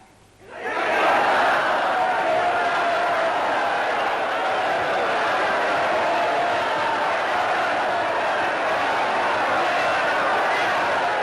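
Crowd of extras cheering on a 1937 film set of I, Claudius, a loud mass roar of voices swelling in after a second and sustained steadily to the end.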